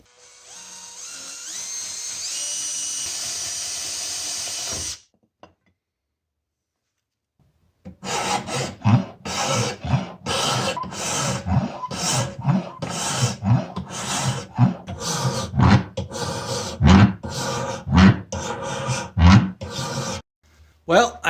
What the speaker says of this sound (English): So let's get drilling the other hole.